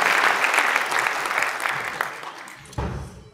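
A gala crowd at a sports awards night in The Hague gives sustained applause, dense and steady, thinning toward the end before a brief louder swell.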